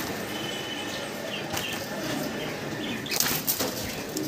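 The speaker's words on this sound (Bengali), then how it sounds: "কবুতর কিন্তু সুস্থ সবল এবং ছটফট করতেছে, দেখতে পারতেছেন।" Healthy, restless pigeons at a pigeon seller's flutter and flap their wings in short bursts, with a louder flurry near the end over a steady background hiss.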